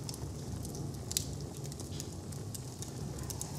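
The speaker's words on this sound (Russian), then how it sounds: "Камин потихоньку догорает. Тяга в нем отличная." A wood fire dying down in a fireplace with good draft, giving soft steady crackles and small pops over a low rushing hiss, close and alone.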